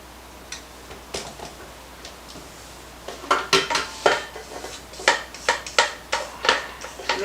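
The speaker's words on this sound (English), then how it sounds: "Make sure you scrape the bottom of your bowl." A spatula or spoon scrapes around the bottom of a mixing bowl of cranberry sauce pound cake batter, making repeated close clinking, scraping strokes that grow louder and more rhythmic partway through.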